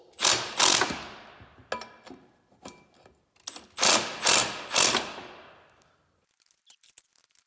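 Ratchet wrench clicking as it loosens 12mm drive shaft bolts during a clutch replacement, several close bursts of rapid ratcheting separated by brief pauses, the last strokes fainter.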